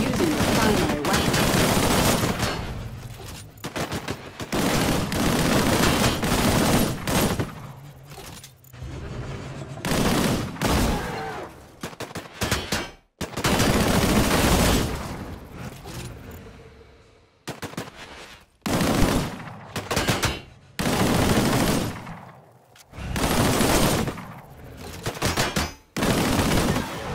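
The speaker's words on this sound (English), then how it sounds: "Engage the enemies ahead using your primary weapon." Rapid bursts of primary-weapon gunfire in the Disintegration video game, loud automatic volleys separated by short pauses, with game effects and a voice speaking at times between the bursts.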